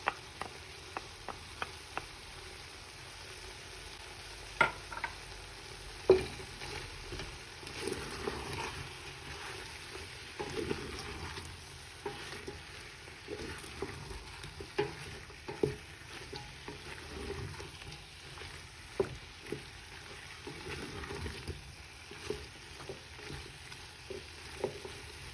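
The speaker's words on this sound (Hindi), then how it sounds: "जब तक हमारा बीफ भुन रहा है" Beef browning in a pan for a spicy beef stew, giving a faint, steady sizzle with scattered crackles and pops throughout, no voices.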